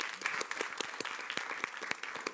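A school board meeting audience breaks into a round of applause, a dense, steady patter of many hands clapping at once that fills the room from start to finish.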